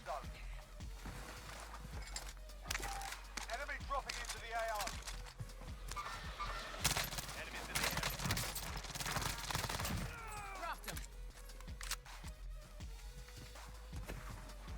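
Mag 10 shotgun blasts in Warzone, a video game, booming in sporadic bursts amid other gunfire and footsteps, with voices talking underneath throughout.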